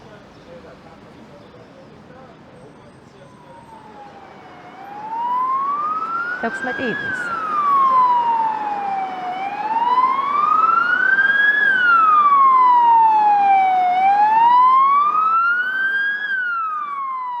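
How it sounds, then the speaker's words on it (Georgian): A fire alarm in a courthouse sounds a loud wailing siren that sweeps slowly up and down in repeating cycles, starting softly and swelling to full strength, with a voice briefly heard. "განგაშის სისტემა ირთვება. ისმის ყურადღება სახანძრო განგაშია. დატოვეთ შენობა."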